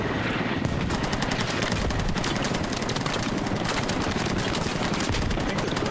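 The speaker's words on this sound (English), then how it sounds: "We are getting shot from a different direction, though." Rapid automatic gunfire rattles in the military shooter game Squad, dense bursts of shots repeating fast and loud for the whole stretch, near and relentless.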